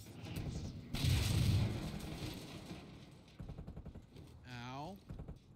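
Sniper gunfire during a Call of Duty Cold War mission, several sharp, booming cracks in quick succession amid gameplay noise and a voice talking, ending with a falling whistling tone.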